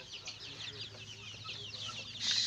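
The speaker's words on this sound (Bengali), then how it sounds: "লোকাল মুরগির খামার এভাবে আপনারা ঘরে লোকাল মুরগি লালন পালন করতে পারবেন" Local chickens on a small home farm cluck and chatter continuously at moderate loudness, with a brief louder burst near the end and faint low background hum.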